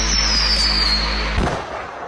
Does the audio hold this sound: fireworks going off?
yes